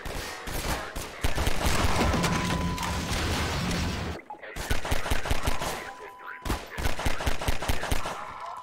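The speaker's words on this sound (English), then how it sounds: "I'm about to get the machine gun, and then stuff's gonna get real." Rapid machine gun bursts from the video game Half-Life 2, loud and close, with dense continuous fire in the first half, a brief pause, then sharper rhythmic volleys of individual shots.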